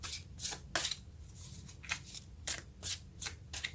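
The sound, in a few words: tarot cards being shuffled for a reading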